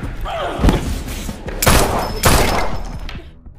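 Several sharp gunshots in a film scene ring out, loud and close, with a burst of rapid fire between heavy booming blasts, fading to quiet at the end.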